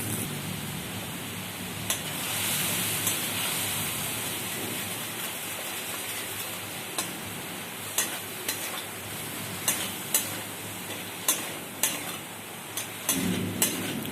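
Spice paste of ginger, mustard, chilli, turmeric and salt sizzling in a pan for a rohu fish curry, a steady close hiss broken by repeated sharp scrapes and clicks of stirring that come faster toward the end.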